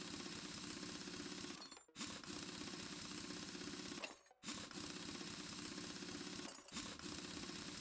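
A slow power drill from Car Mechanic Simulator grinds and whirs in long, steady runs. It stops abruptly three times, with short gaps between bursts, and plays fairly quietly.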